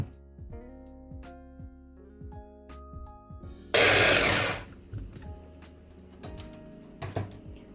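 A kitchen blender gives one short, loud pulse of roughly a second on a lime juice and olive oil marinade, set between quieter background music and small handling noises.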